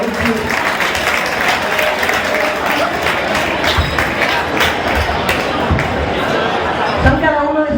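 Dense, steady applause from an audience at a Christmas show in a Madrid hall fills the room continuously, with a few scattered thumps and murmured crowd voices mixed in.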